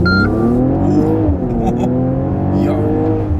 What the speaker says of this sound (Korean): 이게 과하지 않은 엔진 소리가 들리면서 가속하는 느낌이 꽤 셉니다